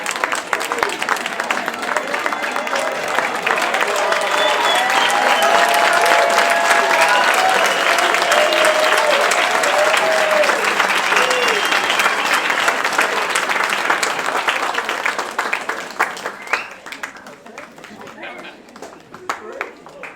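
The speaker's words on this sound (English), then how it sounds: "please, one more round of applause" Audience applause at a school winter concert: loud, dense clapping from a large crowd swells and sustains for about fifteen seconds, with cheers and chatter mixed in, then thins out toward the end.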